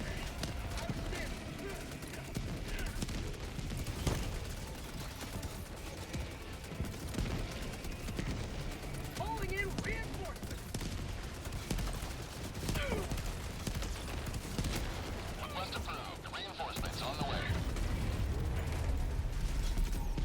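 Sentry gunfire in the video game Helldivers rattles in dense, continuous bursts for the whole stretch, loud and busy, with mechanical clatter mixed in.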